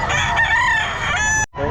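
A rooster crows loudly and close at a bustling pet market in Bocaue, its long harmonic call running almost two seconds before cutting off abruptly, with a brief burst of market noise after.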